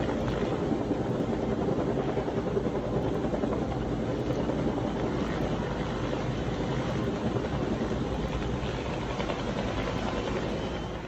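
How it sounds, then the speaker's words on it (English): Firefighting helicopter rotor thudding steadily and loudly for the whole stretch, a close, continuous chop over a low engine roar during the LA wildfires. "this chopper can come in there with a certain amount of weight, get that much weight extra"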